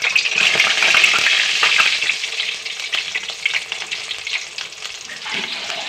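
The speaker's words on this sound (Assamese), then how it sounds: "আপুনি চাই থাকিব, মই ফ্ৰাই কৰিম।" Egg fingers fry in hot oil over a lowered flame, giving a loud, steady crackling sizzle that runs without a break and has no voices over it.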